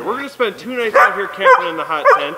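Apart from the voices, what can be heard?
dogs barking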